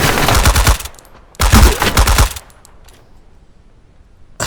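Two loud bursts of rapid automatic gunfire in the video game Deadside, each lasting about a second, separated by a short gap and followed by a quieter stretch with a few faint distant pops.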